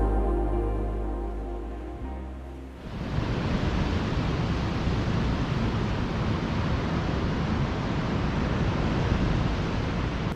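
Steady broadband roar of ocean surf breaking close to a campsite on the Dominican coast, starting after a brief quieter moment and then continuing loud and unbroken with no talk.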